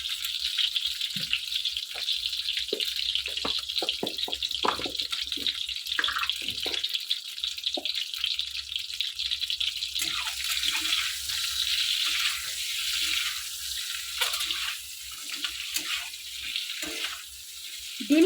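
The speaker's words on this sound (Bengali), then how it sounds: "অল্প একটু নুন আর হলুদ দিয়ে ডিমটা আমি লাল করে নেব" Eggs browning in a pan with salt and turmeric, a steady bright sizzle of frying that runs throughout, broken by scattered clicks and pops, with no talk.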